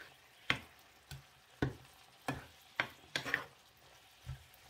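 Pickled mustard greens, cooked down with a little water in a pan, give off short separate stirring scrapes and sizzles, about eight distinct strokes at uneven intervals, close and moderately loud.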